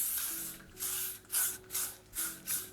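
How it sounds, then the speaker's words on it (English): L'Oreal Elnet Extra Strong Hold hairspray goes off in five short, close hissing bursts, each a second or less, with faint music underneath. "I'm just gonna take some hairspray. This is the L'Oreal Elnet Extra Strong Hold."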